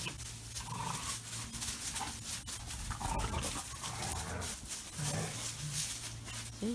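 A female Dogo Argentino whimpers and vocalizes in repeated short whines and low cries, close by over a steady background rumble.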